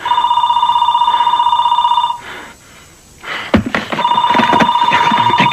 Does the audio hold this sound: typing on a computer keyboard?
no